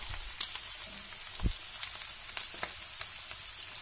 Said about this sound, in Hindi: तो इनको फ्राई कर लेते हैं